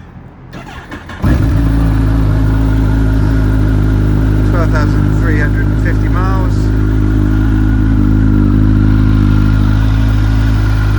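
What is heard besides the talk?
Kawasaki ZZR 1400 motorcycle engine starting and idling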